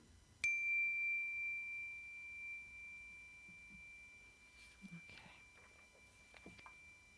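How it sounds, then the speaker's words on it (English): A single meditation chime strikes once near the start and rings out in a long, clear sustained tone that slowly fades over several seconds, with faint rustling and soft sounds in a quiet room afterward. "we'll be ringing the chime at the transition to each exercise today"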